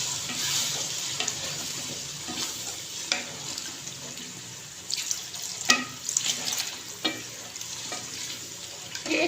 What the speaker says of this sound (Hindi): एक गिलास इसके अंदर मैंने पानी का डाल दिया है।